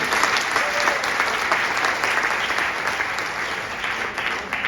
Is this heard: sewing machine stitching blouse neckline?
no